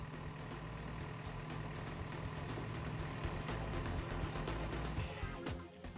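A Mercedes-Benz Unimog U20 truck's diesel engine running steadily, a low continuous rumble with a faint hum, heard at moderate distance without voices.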